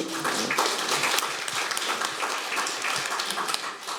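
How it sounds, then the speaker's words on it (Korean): An audience at a public hearing on mental health policy applauds to welcome a speaker, a moderately quiet, steady patter of many hands clapping, slightly distant and even throughout. "박수로 모실게요"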